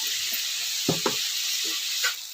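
Vegetables frying in a pan with salt for paneer kurma, a steady bright sizzle throughout with a few soft stirring scrapes and clinks close by.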